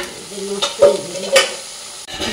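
Paneer pieces frying in a pan, bursts of spattering sizzle with clinks and scrapes as pieces are turned, close and fairly loud over a brief stretch.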